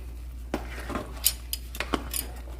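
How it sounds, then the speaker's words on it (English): A spoon stirs sugar and butter in a bowl, giving a few light, sharp clinks and scrapes spaced irregularly over a quiet background hum. "Stir it up."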